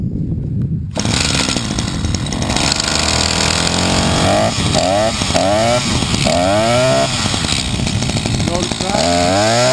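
A small EFCO DS2200S gas weed trimmer engine pulled into life after choking, a loud close buzzing two-stroke that revs up and down in rising and falling sweeps, with someone talking briefly at first.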